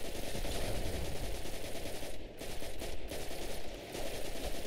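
Sustained rapid fire from the Thunderlord machine gun in Destiny 2 rattles on almost without pause, loud and dense, with a couple of brief gaps between bursts.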